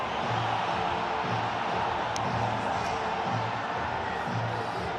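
A cricket stadium crowd in Pakistan roars in a broad, continuous wash of cheering and whoops, a steady dense din with a faint voice or two rising through it.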